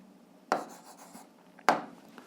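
A pen or pencil writes numbers by hand during an 8th-grade algebra lesson: two short, faint scratching strokes about a second apart, with no talking.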